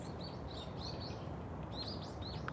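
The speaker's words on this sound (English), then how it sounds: "birds this morning singing beautifully" Birds sing in a Tokyo park in the morning, their small chirping phrases repeating over a steady, loud wash of city background noise.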